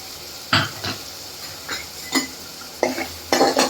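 Masala sautéing and being stirred in hot oil over lowered heat for patodi bhaji, a spoon scraping the pan in several separate strokes with a soft sizzle between them, close by and moderately loud.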